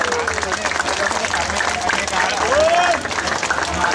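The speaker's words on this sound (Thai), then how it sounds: "อยากให้ปรบมือให้กับอาจารย์ที่ขอนแก่นนะครับ" An audience applauds a Thai monk's talk honouring teachers from Khon Kaen, a loud wash of clapping with faint murmurs and a voice rising over it partway through.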